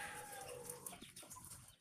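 Hens cluck and chatter in a farmyard, with soft overlapping calls and rustling against a busy background.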